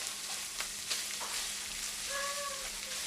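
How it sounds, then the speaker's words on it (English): Freshly ground garlic sautés in a hot pan for a ground beef and vegetable dish, giving a steady crackling sizzle with a few stirring taps and a faint high tone near the end; no talking. "That's fresh garlic grounded up in the blitzer. Okay. We got that going. So let's get that sauteed up."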